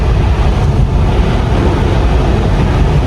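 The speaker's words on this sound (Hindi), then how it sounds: "ये स्लश की आवाज़ है जो सड़क पे इस वक्त जमी हुई है।" Tyres rolling through frozen slush on a snowy road in extreme winter, a loud, steady broadband rushing and hissing with low rumble, continuous and close, with no talking.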